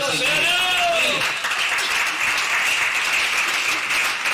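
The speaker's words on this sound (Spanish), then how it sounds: "Denle el aplauso al Señor" A church congregation at a missions conference applauds in a loud, steady burst of clapping, while a voice briefly rises over it at the start.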